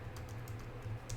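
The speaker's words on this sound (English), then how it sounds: "I'm typing in the wrong area. I need to be typing over here." Typing on a computer keyboard, a run of soft, uneven key clicks spaced through a short stretch over a steady low hum, close and fairly quiet with no voices.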